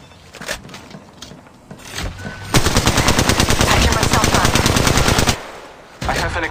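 Sustained automatic gunfire from Apex Legends Mobile, a long rapid burst of shots lasting several seconds, loud and close, preceded by scattered quieter shots and followed by a brief pause before firing resumes.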